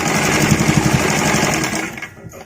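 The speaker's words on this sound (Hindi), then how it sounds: "इस तरीके से हमने एक थोड़ी दूरी तक सिलाई लगा ली है।" A sewing machine stitches fabric for children's shorts in a rapid, steady, close mechanical chatter that slows and fades out over the last second.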